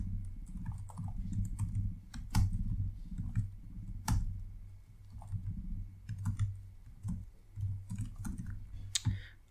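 Computer keyboard typing while writing code for a Bitcoin Cash wallet, a steady run of soft close keystrokes with clicks and brief pauses over a low hum, with no talking.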